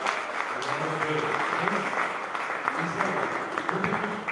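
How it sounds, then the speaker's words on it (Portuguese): A church congregation applauds the Lord during a children's service, steady clapping from many hands filling the room for the whole stretch, with a voice faintly audible underneath. "Vamos aplaudir o Senhor mais uma vez."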